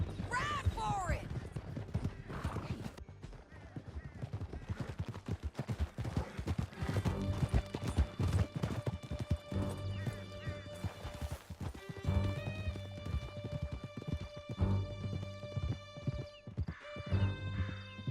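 Horses gallop hard through a canyon in Red Dead Redemption II, with steady drumming hoofbeats, loud whinnies, gunshots and music, and voices talking over the chase.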